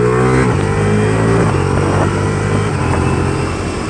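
A 2023 Ducati Diavel V4 roars loudly under throttle on a highway ride, its engine note shifting as it revs, with steady wind rush throughout.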